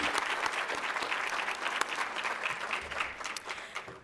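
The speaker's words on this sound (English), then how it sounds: "Can we have a round of applause, please?" A crowd claps a round of applause at an evening celebratory gathering, the clapping already full and dense from the start and thinning slightly toward the close.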